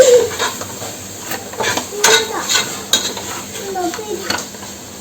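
Egg biryani masala being mixed in a metal pot: a spoon clatters and scrapes against the sides in repeated close, fairly loud strokes over a faint sizzle.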